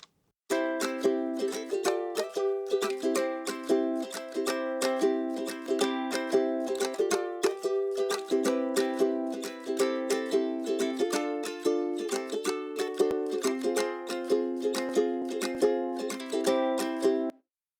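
A ukulele strums a steady chord part in a brisk, even rhythm, the bright plucked strikes close and clear with no voices over them.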